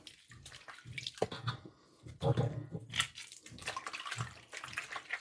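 Water splashing and sloshing in a bowl of salt water and lime while fish is rinsed and scrubbed by hand, irregular close bursts of wet swishing with brief pauses.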